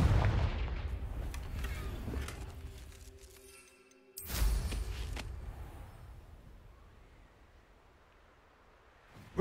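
Blasting spell explosions in the game Hogwarts Legacy: a sharp, loud burst midway that rolls off into a long decaying rumble, following an earlier low booming tail and ambient game sound.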